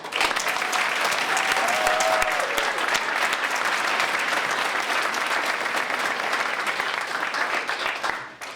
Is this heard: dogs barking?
no